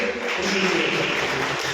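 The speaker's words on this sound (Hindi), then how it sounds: "इनके लिए तालियां बजाइए।" Audience at a BJP mandal working committee meeting in Taranagar, Churu, Rajasthan, applauding steadily as a dense wash of clapping that holds at an even level for under two seconds.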